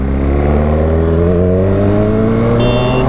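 A motorcycle ridden at night, not yet fully repaired and kept to moderate speed, gives a loud, close engine drone that climbs steadily in pitch as it accelerates, with no talking over it.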